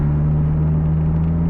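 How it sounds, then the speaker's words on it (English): A Toyota Supra MKIV engine idling during street tuning, a steady close low drone with a strong hum and even rumble, unchanging across the short stretch. "So we got the car warmed up, we got some fuel for it, and so now we're just gonna do some street tuning"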